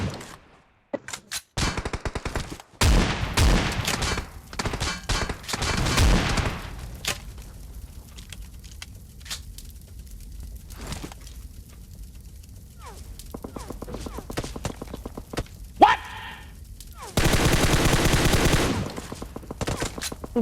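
Repeated automatic gunfire and single shots crack out in bursts during an online shooter match, loud and dense at times with quieter gaps, while someone talks excitedly in Hindi between and over the shots.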